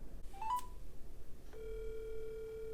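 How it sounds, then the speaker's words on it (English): Phone number dialed on an Amazfit GTR 4 smartwatch: a short electronic blip, then a brief click and a steady tone that holds to the end, close and quiet with no voices. "Let me dial a number real quick here."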